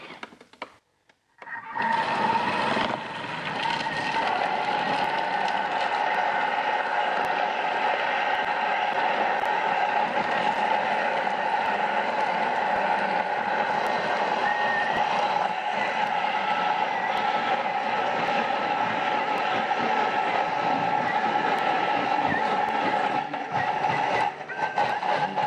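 A blender whirs steadily through herb pesto, a loud continuous motor drone that starts abruptly after a brief quiet moment and runs unbroken to the end.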